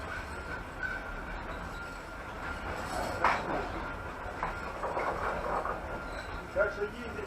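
A passenger train rolls along rails on the Ozherelye–Bogatishchevo–Uzunovo line, a steady low rumble with faint clacks and a few louder bumps, heard from inside the carriage while people talk quietly.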